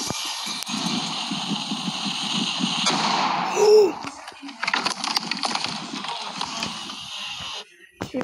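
Firecracker going off outdoors among a group of people, with sharp bursts and crackling pops, a short tonal whistle midway, then scattered loud snaps near the end.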